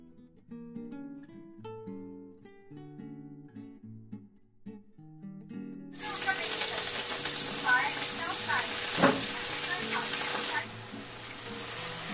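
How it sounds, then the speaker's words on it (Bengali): Onions frying for birista and drumstick flowers cooking in two woks: a loud, dense sizzle bursts in about halfway through and continues steadily, following a quieter stretch of tonal sound. "পিছনের কড়াইয়ে সজনে ফুল আর সামনের কড়াইয়ে চিকেনের জন্য বেরেস্তাটা ভেজে নিচ্ছি"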